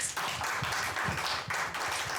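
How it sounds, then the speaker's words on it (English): Audience clapping at a panel session on building legacy, a broad wash of hand claps with a few distinct sharper claps coming through, steady and fairly close for the whole stretch with no voices over it. "So tuwapigie makofi."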